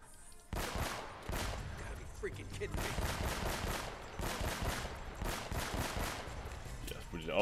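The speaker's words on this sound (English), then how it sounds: "don't you dare shoot me" Gunfire in the Uncharted video game on Crushing difficulty: repeated bursts of rapid shots in quick clusters separated by short gaps, loud and close.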